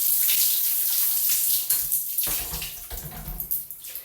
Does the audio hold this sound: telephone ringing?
no